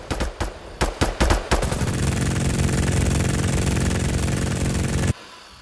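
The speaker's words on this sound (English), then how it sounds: "Whoever has the minigun's fucking out there using it." Minigun in a video game, opening with several short separate bursts that build into a sustained, loud rapid-fire roar for about three seconds before cutting off abruptly.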